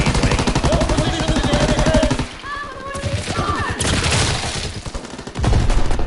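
Gunfire in the World War II shooter Call of Duty: WWII, a rapid string of loud shots, including an anti-tank rifle, hammering at close range, briefly dipping before heavy firing resumes; faint tonal game sounds run underneath.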